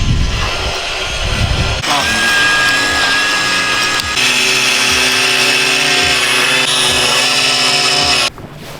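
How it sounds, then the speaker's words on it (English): A weed whacker runs outdoors near a house, a loud buzzing engine whine with pulsing revs that rises and falls for several seconds before abruptly dropping away. "you're not going to hear me now that Jeff decided to turn on the weed whacker"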